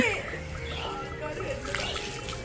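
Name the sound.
water splashed while bathing a child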